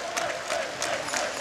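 Applause from a Friday night college volleyball crowd at a Hawaii versus USC men's match, a steady mid-level clapping wash with soft swells, mixed with an arena commentator's voice.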